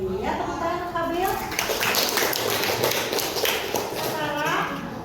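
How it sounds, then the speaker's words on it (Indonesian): A classroom of children clap for a classmate, a dense burst of many small hands patting together at steady volume across the whole stretch, with a voice rising over it at the start and again near the end. "tepuk tangan untuk Abil"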